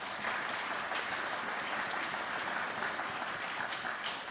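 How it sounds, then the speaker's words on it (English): A commencement ceremony crowd gives steady applause for academic advising staff, an even wash of many hands clapping that holds at a moderate, slightly distant level throughout. "please join me in giving them an applause."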